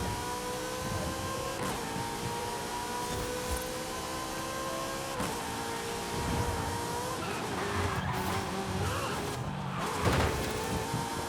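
Race car engine droning through a lap of the Monza circuit in Forza Horizon 5, with steady harmonic revving, shifts and brief tire squeals, continuous and fairly loud with no talking.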